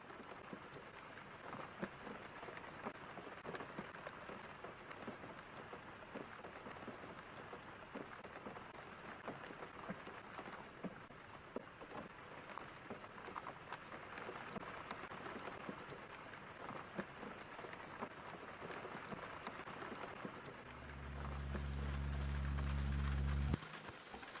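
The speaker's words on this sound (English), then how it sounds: "on the experience of hearing rain falling." Steady rainfall patters evenly and softly at a moderate distance, a continuous fine hiss of drops, ending with a louder low rumble in the final seconds.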